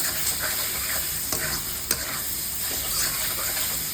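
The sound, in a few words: frying potatoes in a pan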